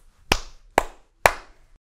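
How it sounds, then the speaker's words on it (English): Three sharp, evenly spaced hand claps, close and crisp with a brief ring after each, alone in a quiet room. "Clap your hands."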